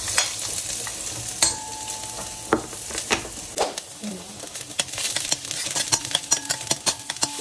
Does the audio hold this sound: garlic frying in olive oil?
yes